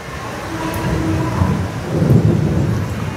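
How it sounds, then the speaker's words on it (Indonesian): Strong, fast water flow at a small dam, a steady broad rushing roar that swells slightly toward the end, continuous and fairly loud with no voices. "Dan aliran airnya di sini kita lihat cukup deras ya."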